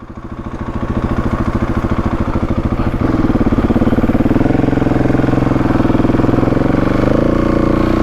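A Husqvarna 701 Enduro motorcycle engine idles with a close, loud, pulsing thump, then rises to a slightly higher, steadier throb that holds through the rest of the stretch.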